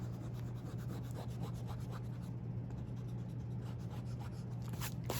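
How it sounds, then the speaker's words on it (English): Eraser rubbing out pencil construction lines on paper, a continuous scratchy rasp made of quick back-and-forth strokes, close and quiet, over a low steady hum with no talk. "So I'm going to go ahead and erase the construction lines I don't need anymore to minimize confusion."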